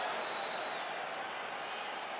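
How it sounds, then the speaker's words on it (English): A simulated arena crowd in the UFC 4 video game applauds after a round of a Magomed Ankalaev vs Anthony Smith fight, a steady distant roar of clapping and cheering held at an even level throughout. "So the crowd voicing its appreciation after that round"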